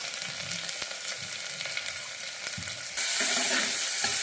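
Curry leaves fry in hot oil with a steady, dense sizzle and occasional stirring scrapes, and the crackle grows louder and brighter partway through as more goes into the pan.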